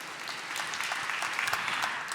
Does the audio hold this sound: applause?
yes